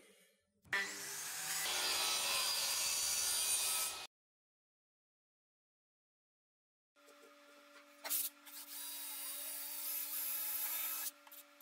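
Sawing through a prototyping circuit board to size for a 737 cockpit pedestal build, a steady rasping cut lasting a few seconds, a pause of silence, then another sustained stretch of cutting, close and fairly quiet.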